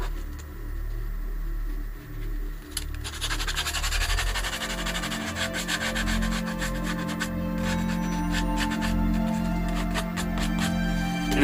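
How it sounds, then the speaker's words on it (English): Sandpaper scrubs over a plastic skull in steady back-and-forth strokes, close and fairly loud, the rasping friction growing denser after the first few seconds with no talking. "Take a piece of sandpaper and just go over top of"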